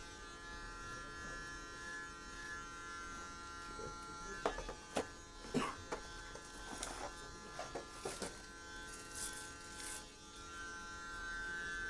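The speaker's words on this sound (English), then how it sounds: "So this is the hair trimmer." A Kemei KM-1385 electric hair trimmer with a reversed blade buzzes steadily and close, its drone broken by a series of brief clicks and handling knocks partway through.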